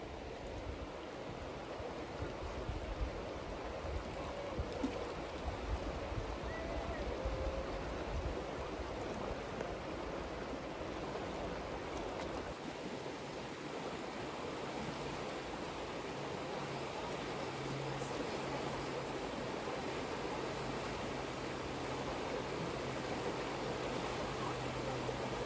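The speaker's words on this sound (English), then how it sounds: "check out a little bit of this part of the river" A Florida river flows past a boardwalk along a hiking trail, giving a steady, broad wash of moving water that stays even and continuous throughout, with a faint low hum entering partway through.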